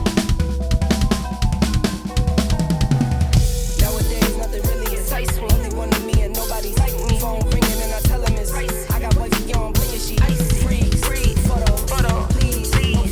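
A full drum kit plays combined licks in a musical context, dense and loud with rapid snare and tom strokes, driving kick hits and washing cymbals throughout, heard with no speech.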